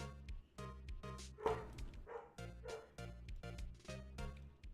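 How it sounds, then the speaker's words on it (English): A dog barks repeatedly up close in quick, rhythmic bursts with some yips mixed in, continuing steadily through the whole stretch without talk. "Sorry, you can hear barking."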